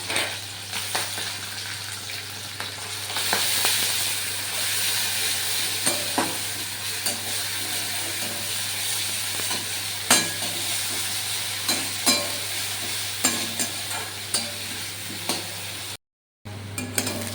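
Onion paste fries in sugar caramelized red in a pan for a paneer kalia, a close continuous sizzle broken by repeated scraping stirs and soft clacks, with a brief silent gap near the end.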